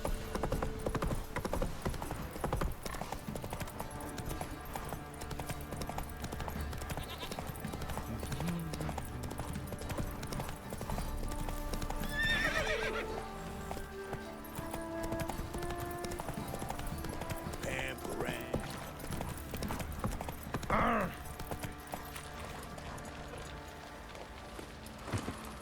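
Hooves of a game horse clip-clop at a trot in The Witcher 3, a steady rhythmic patter running under game music and ambient noise, with brief voices and a whinny-like rise near the middle and end.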